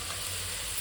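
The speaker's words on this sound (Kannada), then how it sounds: "ಈ ಕಾಳೆಲ್ಲ ಇಲ್ಲಿಗೆ ಹಾಕಿ ಸ್ವಲ್ಪ ಎಣ್ಣೆಲಿ ಚೆನ್ನಾಗಿ ಫ್ರೈ ಮಾಡೋಣ" Washed hyacinth beans fry in a little oil with a short, steady sizzling hiss, ending in a sharp click.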